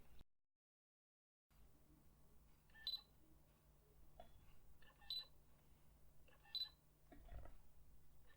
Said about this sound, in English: take some photo, and that way you can get the beep sound, assessing how the autofocus works